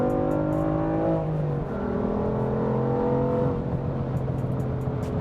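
An MHD-tuned 2015 BMW M3 engine pulls under throttle from inside the car, a loud steady drone that climbs in pitch, dips at a shift, then builds again, with faint clicks over it.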